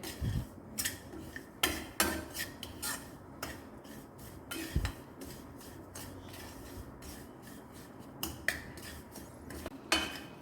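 A spoon scrapes and clinks against a bowl while salt, dried mango powder, turmeric and chilli powder are stirred together. The taps and scrapes come close and fairly quiet in an irregular rhythm with no talk.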